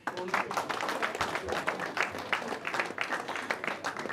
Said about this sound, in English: It is also my great pleasure that I request you to clap for Dr. Boyo.